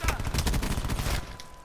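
Loud, rapid bursts of automatic gunfire from the video game Call of Duty Black Ops 4, dense and close, cutting off abruptly near the end and leaving a thin lingering tone.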